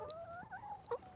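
Chickens cluck in short, bright, warbling calls, a steady run of murmuring clucks broken by a couple of sharper, louder squawks near the end, close and fairly quiet with no talking.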